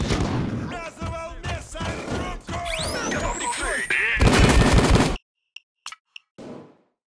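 Video-game gunfire rattles in quick bursts and pops under shouted voices during a solo heist on Death Wish difficulty, ending in a heavy blast, then near silence with a few faint clicks.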